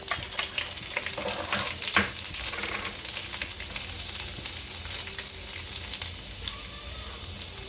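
Chopped garlic cloves hit hot oil in a pan, bursting into a loud, steady sizzle and crackle up close, with a few scraping stirs early on as the frying continues evenly.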